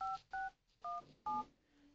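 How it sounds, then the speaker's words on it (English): Keypad tones from a phone dialer app on a Vivo custom ROM: four short, clear dual-tone beeps in an even rhythm, close and distinct with brief gaps of quiet between them. "The phone dialer."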